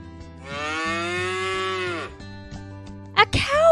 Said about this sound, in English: A cow makes that sound.